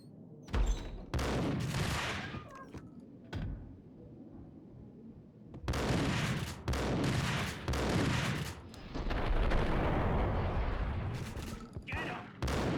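Bursts of gunfire in Max Payne on PC, loud rapid volleys that stop for quiet gaps and then resume in long sustained strings.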